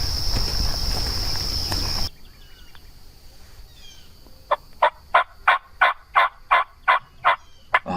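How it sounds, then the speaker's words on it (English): Osceola wild turkey gobbling in a series of about ten short, evenly spaced bursts from a single bird at moderate distance, following a quiet stretch with faint insects. "a bird that was giving away his location with sporadic gobbling"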